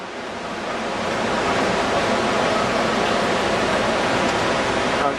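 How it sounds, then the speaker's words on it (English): A river rushes beside the Gurdwara at Gobind Ghat on the Hemkunt route, a loud, steady roar of churning water that holds without a break, like heavy rain. "show the river that is flowing next to this Gurdwara in Gobind Khat"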